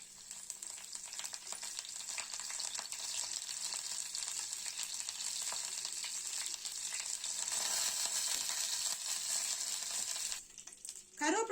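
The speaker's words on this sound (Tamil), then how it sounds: "சோம்பு லேசா வதங்கின உடனே கொஞ்சம் கருவேப்பிலை போட்டுக்கலாம்" Fennel seeds and curry leaves frying in hot oil for a green gram dish, a dense steady sizzle that swells louder near the end before cutting off abruptly, with faint background voices.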